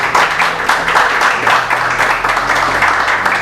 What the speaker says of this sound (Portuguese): Eu agradeço a oportunidade com palmas bem alegres para Jesus